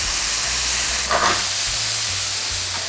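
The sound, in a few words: stir frying chicken breast and vegetable strips in pan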